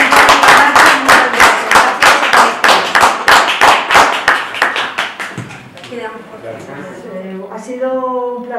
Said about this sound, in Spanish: vamos a darles un fuertísimo aplauso